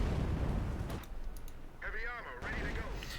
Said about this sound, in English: Gammon bomb.